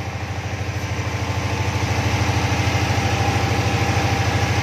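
A Perkins 50 kVA silent diesel generator set runs with a steady, close, pulsing low hum that grows slightly louder and then holds even, with no talk.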